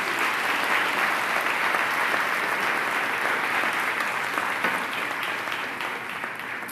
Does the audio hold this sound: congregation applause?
yes